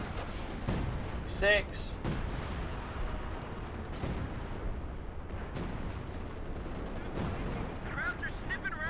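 Gunfire and explosions rumble in a Company of Heroes 2 battle between Wehrmacht and US forces, with machine-gun bursts and booms in dense layers while a commentator talks over the action.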